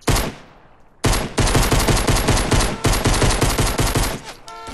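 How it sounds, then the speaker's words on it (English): Fortnite gunfire, loud sustained bursts of rapid automatic shots after a brief pause, continuing almost without a break before easing slightly at the end. "He's shooting at me!"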